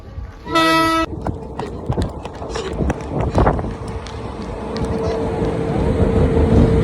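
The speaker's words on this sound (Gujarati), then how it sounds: "આવ્યો રેલગાડી આવી હે" A train arriving at Bhachau railway station gives a loud horn blast at the start, then rumbles and clatters on under the station ambience while people talk.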